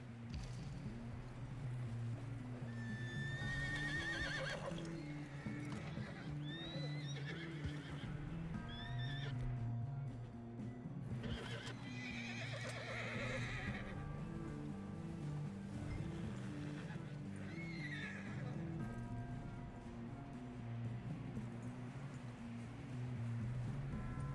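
Horse neighing and whinnying in the Red Dead Redemption video game, with several shrill whinnies over a steady bed of hoofbeats and ambient noise, loud and close throughout.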